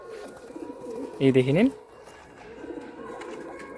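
A Madrasi pigeon at a loft sale gives one short, clear cooing phrase close by, set between stretches of someone talking.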